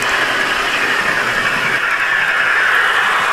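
A Dapol Class 68 model locomotive, 68008 Avenger in Direct Rail Services livery, runs close to its top speed. It gives a steady, fairly loud mechanical whir and hiss with no pauses and no voices.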